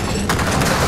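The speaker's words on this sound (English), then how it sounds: "now I gotta use a big gun" Heavy weapon fire in the video game Gears of War 4, a loud dense burst of rapid shots blending into a continuous roar, close and filling the whole moment, no talk over it.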